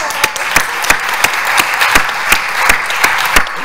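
Audience clapping at a lecture on a hospital cardiovascular centre, a dense, loud, even applause with sharp individual claps throughout and no talk.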